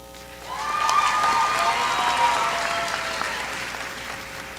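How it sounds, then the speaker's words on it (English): Graduation audience at the Merrillville High School Class of 2025 ceremony claps for seniors, building to a steady wash of applause that swells and then slowly tapers, with faint voices in the hall. "you can feel free to clap for them"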